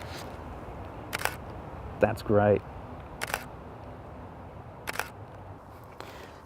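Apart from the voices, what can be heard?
camera shutter clicking while taking pictures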